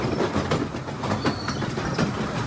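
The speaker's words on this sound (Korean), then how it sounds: "오랜 세월의 흔적이 고스란히 담긴 이 미니 기차와" An old mini train runs on mountain rails in Wulai, Taiwan, giving a steady rumbling roll with rhythmic clickety-clack wheel beats, close and continuous with no voices.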